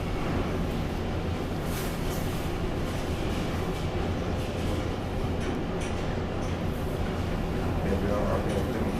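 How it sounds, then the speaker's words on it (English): A metro train at the University of Helsinki station platform gives a steady, loud rumble and rail noise that fills the whole stretch, with voices talking over it. "Here we are at the metro platform."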